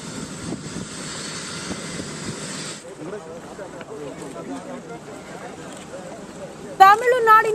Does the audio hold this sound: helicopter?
yes